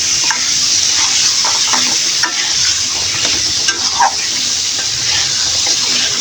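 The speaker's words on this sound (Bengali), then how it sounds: "এভাবে আমি কিছুক্ষণ কাঁঠালের বিচিগুলা কষিয়ে নেব।" Washed jackfruit seeds are stir-fried with spices, producing a loud, continuous sizzle with steady scraping and stirring in the pan and a few brief clinks and knocks.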